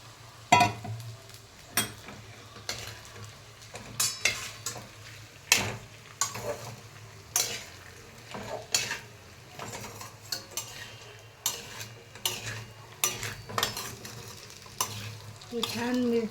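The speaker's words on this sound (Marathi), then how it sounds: "हे साबुदाणे छान बटाटा आणि मिरचीमध्ये छान परतून घ्यायचं." Sago pearls, potato and chili sauté in hot oil in a pan with a steady sizzle. A spatula stirs and scrapes the pan over and over, making close, irregular clinks, and no one talks.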